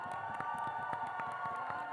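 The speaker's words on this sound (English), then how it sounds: "How about we give them all a very big round of applause?" A crowd at a charity dance event claps and cheers for the dancers, giving a dense, continuous patter of applause with rhythmic hand-clap bursts and whoops, fairly distant.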